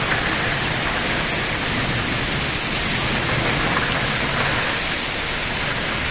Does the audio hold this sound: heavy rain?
yes